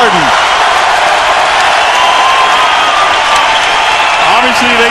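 Dense, roaring basketball crowd at Madison Square Garden, with fans rising and cheering loudly and steadily throughout, broad and continuous with a commentator's voice over it.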